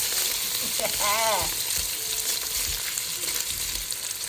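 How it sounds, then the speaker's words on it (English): Sausage browning in a pot for meaty spaghetti, a steady close sizzle and crackle of frying fat throughout, with a brief tonal whine near the start. "let this cook. And when it starts to brown, you just kind of turn your sausage over"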